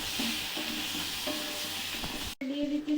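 Potatoes fry in a pan with turmeric and Kashmiri chilli powder, giving a soft continuous sizzle under repeated scraping and stirring strokes, quiet and close, with a brief cut near the end.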